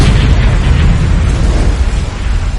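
A massive volcanic eruption explodes in ancient Siberia, a continuous loud, deep roaring blast that fills the whole clip with rumbling low-end power.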